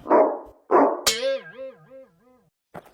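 A cartoon dog in a Chacha Chaudhary animation gives two rough barks, then a high, wavering whimpering whine, ending with a short yip. The sounds are close, loud and alone.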